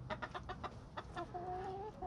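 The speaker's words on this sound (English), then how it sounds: "Chickens." Chickens cluck in quick, soft bursts close by, followed by a longer, drawn-out call, all fairly quiet on a farm homestead in early September.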